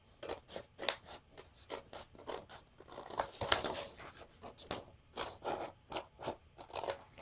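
A window opening being cut out of paper for a shabby chic journal envelope, a close series of rhythmic scraping snips and rasps, steady strokes with a denser burst midway, no talking.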